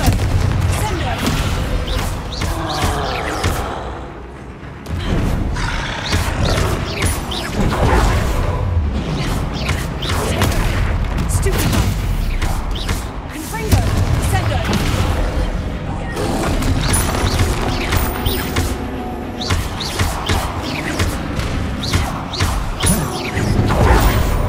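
Confringo explosion spells fired during a Hogwarts Legacy troll fight, a dense run of booming blasts and crackling impacts over a loud, continuous game soundscape, with a brief lull early on.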